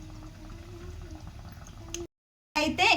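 Water poured into a pot of fish curry with tamarind pulp, a steady bubbling, liquid pouring sound close by, then a short silence and a louder burst of splashing and sloshing at the end.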